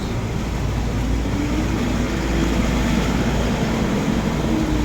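A truck pushing through deep floodwater in a flooded street, a continuous low engine rumble mixed with broad rushing water wash, loud and steady for about five seconds without talk.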